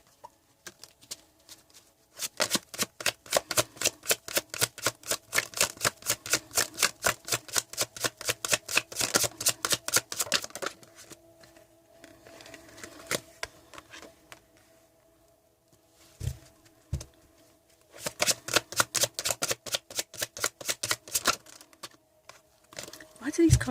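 Tarot cards shuffled by hand in two long runs of rapid, crisp flicking clicks, close and fairly loud, separated by a quieter stretch with a few soft taps.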